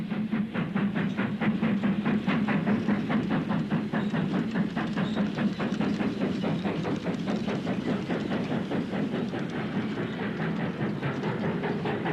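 A 1960s steam train on a Pennine line runs steadily with rhythmic, regular chuffing beats over a low rumbling drone, moderately close and continuous throughout.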